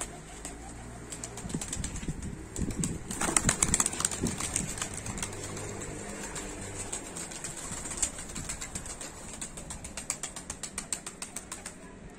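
Young pigeons moving about, with repeated rattling wing flaps and clattering bursts, loudest in the middle, mixed with soft coos and scraping noises nearby, no voices.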